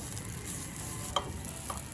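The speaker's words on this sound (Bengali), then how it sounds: "মিডিয়াম টু হাই ফ্লেমে আমি 10 থেকে 12 মিনিট পর্যন্ত এভাবে নেড়ে নেড়ে ভেজে নিলাম মূলোটা" Sliced radish frying in a pan over medium-high flame, a steady sizzle with a sharp scrape or two of a spatula stirring it, near and alone.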